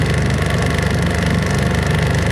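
A 1970 Johnson 9.5 hp outboard motor runs at a steady idle, loud and close, with an even throbbing putter and no voices.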